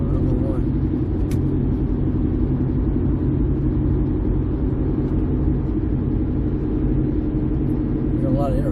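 Steady low road rumble of cars passing close by outside a garage where an 08 Mercury Mariner is being worked on, a continuous traffic drone with no distinct pass-bys standing out.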